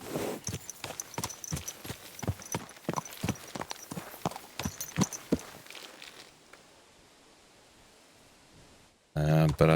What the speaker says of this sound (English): I don't think I've ever seen a guard riding a horse